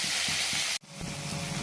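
Onions hit hot oil with dried chilli and whole cumin, a loud bright hiss that cuts off abruptly, then a quieter continuing sizzle up close.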